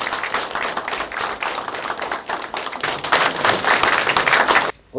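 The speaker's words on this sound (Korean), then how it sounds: "다시 한번 크게 박수 한번 쳐주십시오." A crowd at a political rally claps loudly and steadily for about five seconds, dense overlapping hand claps up close, ending abruptly.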